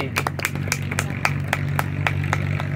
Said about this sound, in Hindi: खुशबू माता जी की तालियां।